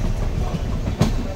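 Steady rumble of a moving passenger train with faint clickety-clack of wheels on rails, continuous and close throughout, with no talk.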